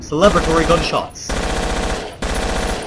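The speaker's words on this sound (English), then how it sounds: "Let us fire off some celebratory gunshots" Rapid bursts of celebratory automatic gunfire in a video game ring out in three long volleys separated by short pauses, loud and close, with a voice briefly heard at the start.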